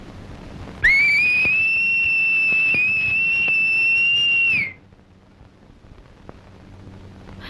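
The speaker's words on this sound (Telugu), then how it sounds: "ఈల వేయటం నాకు మాత్రం ఇష్టమన్నా" A single loud, steady whistle, likely a human whistling, holds one sustained pitch for about four seconds, then cuts off, leaving quiet room noise.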